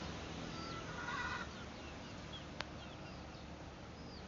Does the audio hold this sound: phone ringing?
no